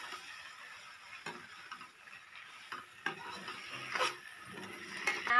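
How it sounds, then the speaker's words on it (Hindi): A spoon scrapes and stirs through eggplant masala in a pan as crushed garlic and chili are mixed in, with soft sizzling underneath and several sharper clicks of utensil on metal, no talking. "अब जो हमने लहसुन मिर्चा को कूट कर रखा था, उसे हम यहाँ पर डाल देंगे। इसे अच्छे से मिक्स कर लेंगे।"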